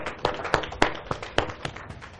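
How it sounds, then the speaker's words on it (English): A small audience at a trading strategy tutorial claps in a short, sparse round, with separate sharp hand claps spaced irregularly and fairly close. "Give us a round of applause."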